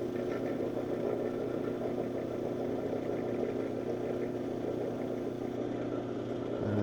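Cabbing machine running steadily while polishing petrified palm wood, a constant low motor hum with a faint grinding, whirring texture, close and even throughout with no voices.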